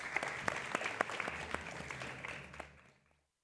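Audience at an indigenous language gathering gives a round of applause, dense clapping with sharp individual claps that thins out and fades to silence near the end.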